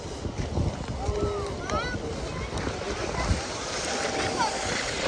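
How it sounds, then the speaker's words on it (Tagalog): Rough, high sea churning against a seawall, a continuous rushing wash of water with wind buffeting the microphone while a person talks over it. "Mataas yung dagat, saka maalon."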